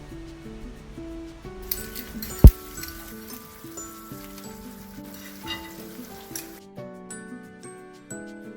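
Sea fish for brown stewed fish going into a seasoned sauce, a soft hissing sizzle swelling for several seconds beneath steady background music, then fading as the music carries on.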